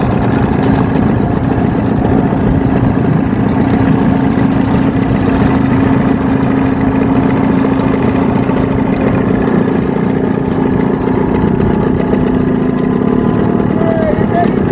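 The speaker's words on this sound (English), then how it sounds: "That's a good running motor." Outboard motor on a 14-foot semi-V or jon boat running steadily close by, a constant loud engine drone with a faint voice under it.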